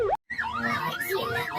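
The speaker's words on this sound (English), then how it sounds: "Peppa and Freddy love the police car. Everyone loves the police car" A police car siren from a children's cartoon, a wailing tone that sweeps up and down repeatedly after a brief silent gap, loud and close, with a voice overlapping at the start.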